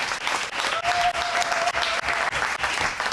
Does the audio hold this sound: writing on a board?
no